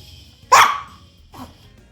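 A small dog in a hotel room gives two sharp barks, the first loud and close, the second softer about a second later.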